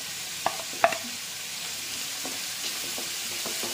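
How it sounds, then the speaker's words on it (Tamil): Chopped large onions sauté in a hot pan for a crab gravy, giving a soft continuous sizzle with a few sharp clinks and scrapes of a stirring spoon against the pan, and no talking. "இனி நம்ம இந்த பெரிய வெங்காயத்தை போட்டு வதக்கிக்கலாம்."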